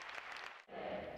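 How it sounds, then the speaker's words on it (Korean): Audience applause fills a large church sanctuary turned concert hall after a New Year thanksgiving praise concert, a dense, steady roar of clapping that dips for a moment and then swells again. "관객들의 우레와 같은 박수가 터져나옵니다."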